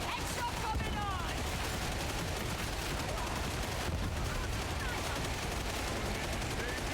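Rapid repeated firing of a recon las gun in a Warhammer-style shooter video game, a continuous dense barrage of zapping laser shots with busy battle noise underneath, loud and unbroken for the whole stretch.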